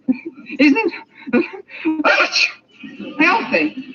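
A sudden sneeze breaks into a conversation indoors, a short sharp burst standing out between phrases of close, clear talk from a man and a woman.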